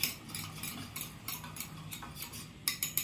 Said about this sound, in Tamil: நல்லா அந்த விஸ்கை வச்சு கெட்டி விழுகாமல் நல்லா மிக்ஸ் பண்ணிக்கணும்